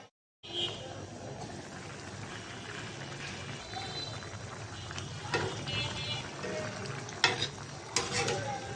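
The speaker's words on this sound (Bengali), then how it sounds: "তরকারিটা বলক এসেছে, এখন ডিম দিয়ে দিব ওর সাথে।" A pot of curry with potato, eggplant and tomato simmers and bubbles steadily, a soft continuous sizzle with occasional stirring clinks and clatters up close; no speech over it.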